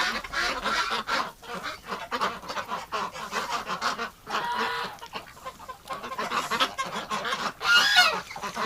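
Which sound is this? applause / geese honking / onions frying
geese honking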